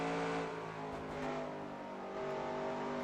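Race car in a dirt-track racing video game at Lime Rock holding third gear through a chicane, a steady, loud engine drone with strong harmonic whine, dipping briefly mid-way before pulling again, with no voices.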